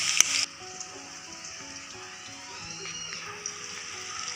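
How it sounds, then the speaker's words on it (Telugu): Okra frying in about four spoons of oil in a pan for a masala fry, giving a steady, soft sizzle that runs throughout after a brief louder burst at the start. "ఇలా వేయించుకోవాలి మొత్తం"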